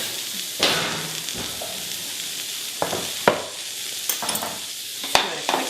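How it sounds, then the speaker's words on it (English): Cauliflower stirred in a hot pan, a steady sizzle of frying underneath with several scraping utensil strokes and a few sharp clinks against the pan, close and fairly loud. "Give it a quick stir here."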